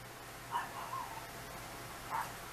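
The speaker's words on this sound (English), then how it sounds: "I know y'all hear my dogs barking out there" Two or three distant dog barks from outdoors, faint and brief, over a quiet background hiss.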